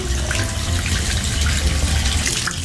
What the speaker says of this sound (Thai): ปล่อยออกแล้วเติมใหม่น้ำให้สะอาด